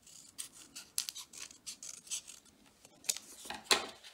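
Scissors snipping paper for a stained glass style collage, a close run of quick crisp cuts and rustles with a louder snip near the end, no voices.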